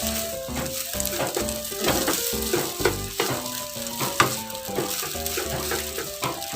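Seasoned rice stir-fried in a hot pan sizzles steadily while a utensil scrapes and knocks against the pan in an irregular rhythm of tossing and mixing, close and clear, with no talking.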